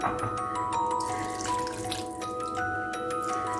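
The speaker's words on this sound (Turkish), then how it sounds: "Biraz daha su dökeceğim." Water is poured over stuffed dried peppers and eggplants in a cooking pot, a steady trickling and splashing stream that runs continuously at moderate level with a faint tonal ring underneath.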